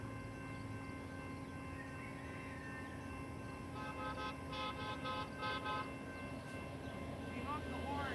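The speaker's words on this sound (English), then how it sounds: "He honked the horn just then." A BNSF high-rail truck running on railroad tracks near a West Ave crossing sounds its horn: loud, sustained blaring tones over steady engine and track rumble, with brief pulsing blasts midway.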